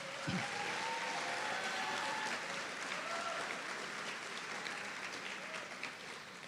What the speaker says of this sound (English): Let's applaud these students, please.